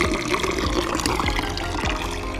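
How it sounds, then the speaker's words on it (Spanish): Water runs steadily from fountains in Cazorla, a continuous close splashing flow with no talk over it. "Aún queda algo de agua en las fuentes de Cazorla."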